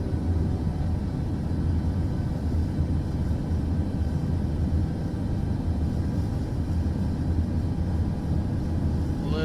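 Steady low airplane engine drone from Microsoft Flight Simulator 2024 on final landing approach with flaps down, a continuous even rumble with no talk.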